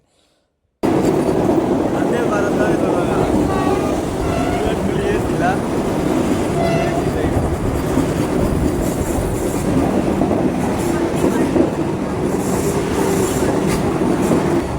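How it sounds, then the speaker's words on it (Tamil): A Vande Bharat express train rumbles loudly and steadily as it arrives at a station nearby, wheels clacking on the rails, with faint voices in the background. "வந்தே பாரத் ட்ரெயின் வந்துட்டு இருந்துச்சு"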